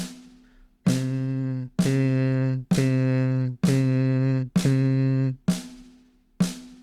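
Seven sustained hummed tones, each starting with a sharp attack and holding a steady pitch, a voice imitating a ringing drum tone, with brief gaps between.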